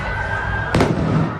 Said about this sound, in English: Fireworks being shot in a crowd and at first responders on Sunday night